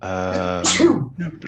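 One close, loud human sneeze bursts out after a short held vocal sound, followed by a brief murmur.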